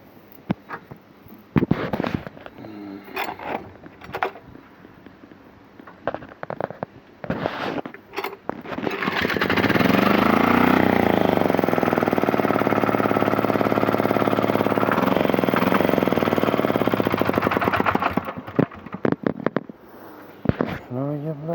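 A repaired 173 motoblock (walk-behind tractor) engine starts after scattered knocks and clatter, then runs loud and steady at close range for about eight seconds before cutting off.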